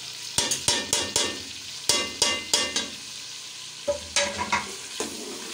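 Spatula scraping and stirring through sizzling spices roasting in a pan for potato chicken curry (aloo chicken salan), in quick bursts of four or five strokes separated by short pauses, close and fairly loud.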